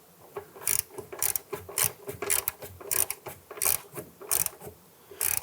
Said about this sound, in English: And once that bolt bottoms out, you just want to go ahead and snug that down a little bit more.